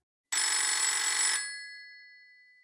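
A telephone bell rings in one loud burst of about a second, then fades away, alone in otherwise silent surroundings.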